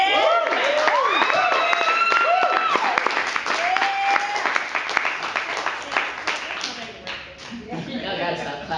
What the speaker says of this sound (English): Y'all gotta stop clapping for me.